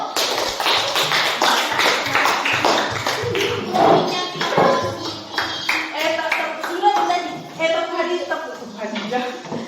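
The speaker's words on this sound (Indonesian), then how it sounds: "kita beri tepuk tangan dulu buat kelompok satu" Classroom of students clapping for a presenting student group, dense rapid claps spread across the whole stretch with voices mixed in.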